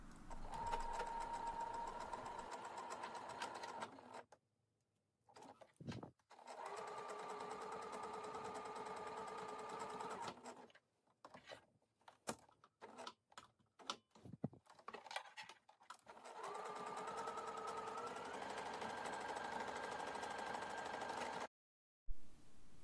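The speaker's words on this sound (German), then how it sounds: "Und wenn dann beides eingezeichnet ist, wird dort entlang genäht." Sewing machine stitching the side seams of a fabric bag, a steady close whir in several long runs with short pauses between bursts of stitching.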